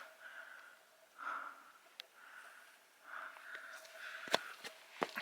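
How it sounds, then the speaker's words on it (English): Heavy, labored breathing from someone climbing a steep slope on the Isle of Skye, close-up breaths and sniffs rising and falling in slow waves, with a few sharp snorts near the end. "Sorry for the heavy breathing"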